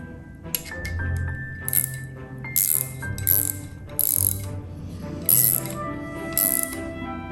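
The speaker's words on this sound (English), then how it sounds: "See, I just tightened this one" Ratchet wrench tightening bolts on a rear axle assembly, with bursts of clicking pawl action and occasional metallic clinks, close and moderately loud without talk.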